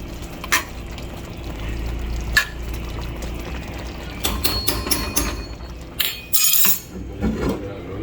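Chicken pelau simmers in a pot with a soft steady bubbling, punctuated by several sharp clinks and scraping stirs of a spoon against the pot, growing busier toward the end.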